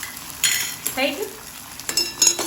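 Cauliflower Manchurian masala with green chillies, Maggi masala and ketchup stirred in hot oil in a pan, with soft scraping strokes and a low sizzle in short bursts, close and fairly quiet, no talking.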